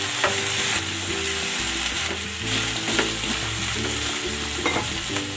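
Pork sizzles and spits loudly in a pan as oyster sauce is added, a dense continuous frying hiss close up with occasional stirring scrapes and a low background hum, no voices.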